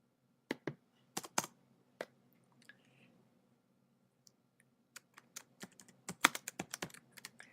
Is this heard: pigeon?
no